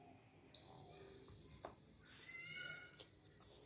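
An alarm on an 8051-based alcohol-sensing engine lock system goes off after alcohol is detected: a piercing, steady high-pitched electronic buzz starts abruptly and holds for several seconds, with faint clicks and background noise underneath.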